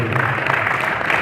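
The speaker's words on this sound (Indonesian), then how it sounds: "tepuk tangan dulu tepuk tangan dulu" An audience at a Maulid Nabi Muhammad celebration claps on cue, a brief, steady wash of applause heard close with a murmur of voices beneath.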